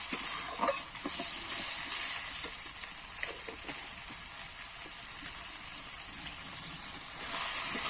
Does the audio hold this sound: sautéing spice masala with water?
yes